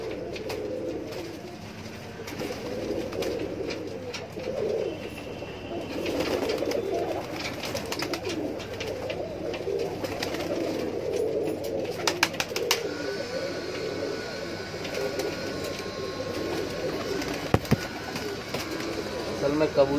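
Pigeons coo softly and continuously inside a loft of high-flyer kaldumme birds, a low murmuring rumble with a few fluttering knocks, while someone talks over them.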